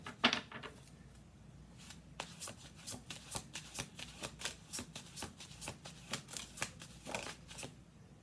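Tarot cards are shuffled and dealt onto a table in quick, close riffles and soft snaps, a run of rapid card flicks followed by a rhythmic series of separate taps as cards are placed.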